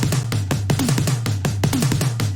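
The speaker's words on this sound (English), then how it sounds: "Just really big tom fills." Big tom drum fills, heavily distorted and clipped, hammer out in rapid loud repeated hits with booming low pitch sweeps on several strokes, alone and close.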